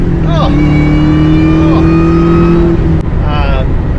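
A high-pitched whine rides over a loud, steady engine drone as an SVT Cobra Terminator accelerates, with brief voices cutting in over the top.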